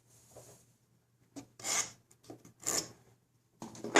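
Pencil marking a line on a wooden feather-board jig beside a saw-blade kerf line, with short scratchy strokes in three or four bursts and pauses between them, close and fairly quiet.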